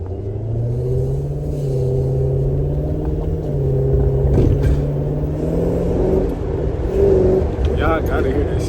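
A rebuilt Dodge Charger fitted with a throttle body spacer, its engine giving a loud, low idling rumble that swells with short throttle blips, close up, while people talk over it.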